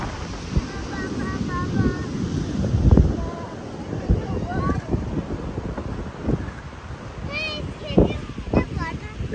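Foamy ocean waves wash and fizz close by under a steady wind rumble, with a child and adults chattering over them.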